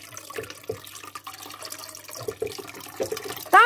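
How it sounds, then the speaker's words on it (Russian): Water poured into a home aquarium during a water change, a close, steady splashing and trickling with uneven gurgles and drips, no speech over it. "Начинаем подливать воду."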